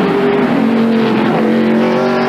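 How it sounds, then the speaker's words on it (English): Stock race car engine screaming at speed during the 1997 Save Mart Supermarkets 300, a loud, sustained high-pitched drone with a slight pitch shift as it passes. "That's a fast race car"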